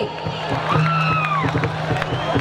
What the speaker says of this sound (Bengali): জোরে একটা হাততালি হবে নাকি?